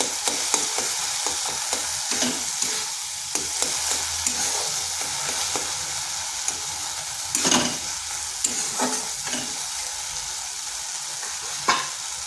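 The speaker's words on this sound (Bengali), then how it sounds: "হাতা দিয়ে একটু এভাবে করে দিতে হবে তাহলে গুঁড়ো হয়ে যাবে" Soft scraping and stirring of a ladle mashing cooked apples in a pan for apple chutney, a gentle sizzle underneath with scattered knocks against the pan, close and moderately quiet.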